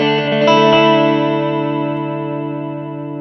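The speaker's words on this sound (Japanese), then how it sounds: "続いてアナログ、アナログディレイです。" A Universal Audio analog delay guitar pedal sounding a strummed electric guitar chord that rings on loud and sustained, warm repeats blending into a slowly fading tail with no talking.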